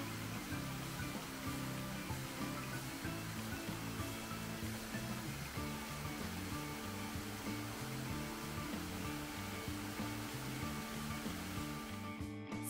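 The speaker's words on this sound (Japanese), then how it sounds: "朝早くに訪れた白糸の滝、やはり水辺は涼しかったですね。" Shiraito Falls in Karuizawa on an early morning, a dense, constant roar of falling water that stays even and unbroken throughout, with a steady layered tone running underneath and no voices.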